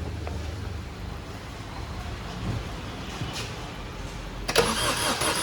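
A Maruti Swift with low compression cranks with a steady churning drone for several seconds before the engine catches near the end, close and loud.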